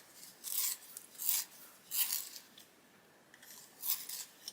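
Coloured pencil sharpened in short bursts, four or five quiet scraping rasps separated by brief pauses, close and alone without talk.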